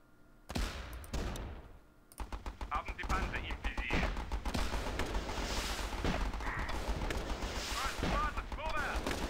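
Rapid bursts of turret gunfire in the Battle Islands: Commanders video game, loud repeated volleys of shots crackling continuously with background battle noise.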